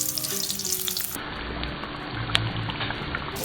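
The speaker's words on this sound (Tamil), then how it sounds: "இப்படியே கரெக்டான சூட்டில் ஒரு லைட் ப்ரௌன் கலர் வர வரைக்கும் பொரிச்சு எடுத்துக்கலாம்." Brinjal pieces frying in hot oil for a Tamil tamarind curry, a steady close crackling sizzle with bubbling throughout.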